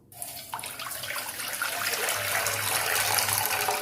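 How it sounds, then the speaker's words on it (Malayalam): Two glasses of water poured into a cooking pan for a belly-fat reducing drink make a close, steady gushing splash that builds slightly over about four seconds, with no talking. "ഇനി നമുക്കിതിലേക്ക് 2 ഗ്ലാസ് വെള്ളം ചേർത്ത് കൊടുക്കാം."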